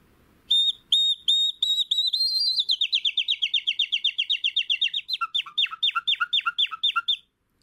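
A man whistles an imitation of nightingale song: a few separate bright notes, then a long run of rapid repeated chirps, ending in quick lower trills, all clear and close with no talk.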